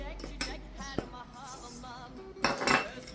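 A spoon clinks and scrapes against a bowl while eggs, yogurt and baking soda are stirred together at home, with scattered metallic taps and a louder burst of clattering near the end.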